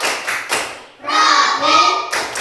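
A classroom group of students claps a rhythmic patterned clap together, with loud sharp bursts and a short sustained stretch of clapping, while voices chant along.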